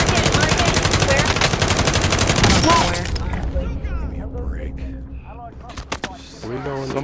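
Rapid automatic gunfire in a multiplayer shooter game pounds out a dense, loud burst for about three seconds, then gives way to scattered shots and game sounds while players talk over it.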